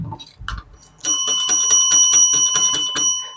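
A bright, ringing bell chimes rapidly about nine times in a quick run, preceded by a few short clicks and tones.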